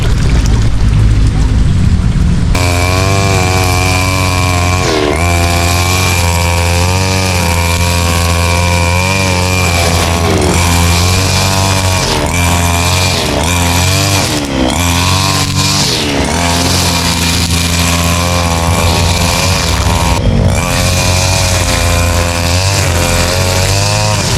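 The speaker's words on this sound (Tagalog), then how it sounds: "Yan, ito naman ang ating i-grass cutter ng kabila." A petrol-engine grass cutter on a mini backyard farm trims grass along the edges of a water paddy. Its loud, steady motor whine starts a few seconds in and runs continuously, revving and easing with the cutting, with no talk.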